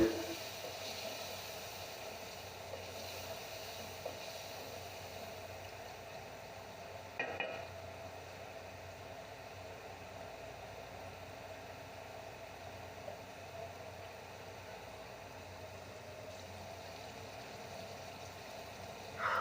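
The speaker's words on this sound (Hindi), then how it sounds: "अब गोश्त को अच्छी तरह भून लेंगे।" Beef frying in a pot for haleem, cooked down with yogurt, gives a steady low sizzle and hiss throughout with faint stirring clatter and a brief clunk midway, no talking.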